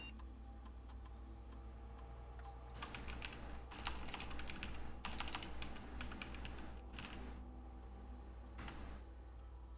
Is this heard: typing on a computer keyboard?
yes